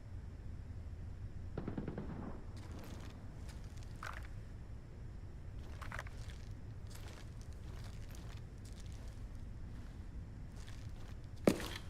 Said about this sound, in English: Why does those gunshots sound so loud?